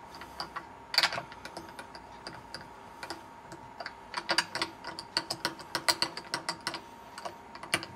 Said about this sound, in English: I'm just going to wind the posts so the holes are actually in line with the direction of the strings.